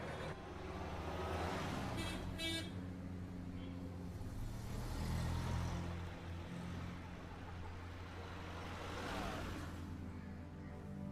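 A car passes and drives off along a road, its engine swelling and fading in a couple of whooshing passes over quiet background noise, with no voices.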